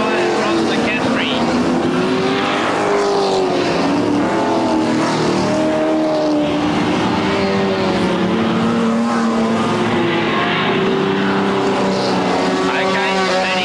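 Super sedan race cars at the 1979 Super Sedan Grand Prix at Newcastle Motordrome roar past on the track, loud engines rising and falling continuously, with a commentator talking over them.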